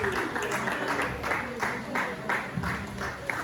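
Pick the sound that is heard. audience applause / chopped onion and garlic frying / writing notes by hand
audience applause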